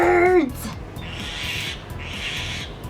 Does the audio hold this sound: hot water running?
no